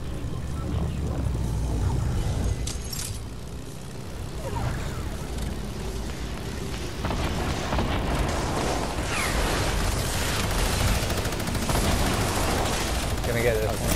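Fortnite gunfire rattles in repeated bursts and booms with explosive thuds, loud and dense, mixed with game effects and a talking voice over the action.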